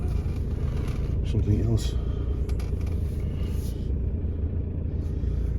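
A classic car drives along a private road, its engine a low steady rumble heard from inside the cabin, with someone talking briefly over it.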